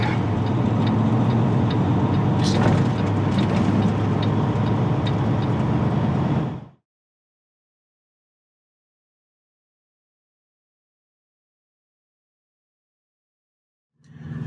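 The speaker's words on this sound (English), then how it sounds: "I got 3 tractor trailers stacked up at check-in, plus another bobtailer" Idling tractor trailers and trucks queued at a check-in give a steady low engine rumble with light ticking for about seven seconds, then silence before the rumble returns briefly.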